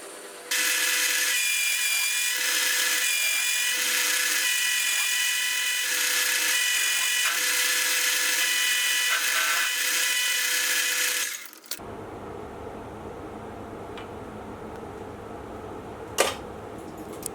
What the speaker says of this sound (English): Now back at the lathe, I'll use a piece of scrap steel just to make up a plug